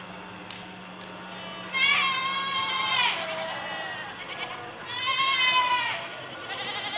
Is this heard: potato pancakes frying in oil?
no